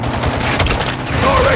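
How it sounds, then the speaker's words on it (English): Rocket launcher impact in a Call of Duty Modern Warfare 2 (2022) campaign firefight, a dense burst of booming blasts and gunfire, loud and close, with shouting voices mixed in. "Guys, hit with the launcher!"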